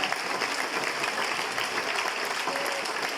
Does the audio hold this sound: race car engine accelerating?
no